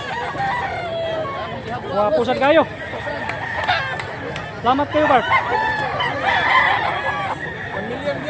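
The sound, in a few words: rooster crowing at a gamefowl show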